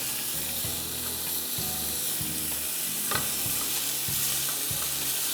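Chopped onion and garlic frying in a pan until transparent, a constant sizzle under regular scraping stirs about every half second, close and steady.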